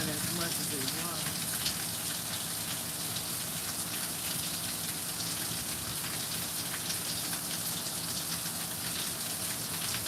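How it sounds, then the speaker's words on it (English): Steady natural rain falls close by, a dense continuous patter of drops on surfaces with no letup, loud and even throughout. "I love the natural patterns and sounds of natural rain."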